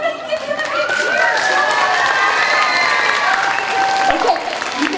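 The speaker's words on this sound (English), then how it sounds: "Give him a big cheer" School assembly audience at an elementary school cheering and applauding, a steady, loud wash of clapping and children's cheers with shouting voices mixed in throughout.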